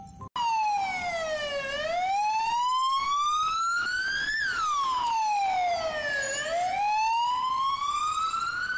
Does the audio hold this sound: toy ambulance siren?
yes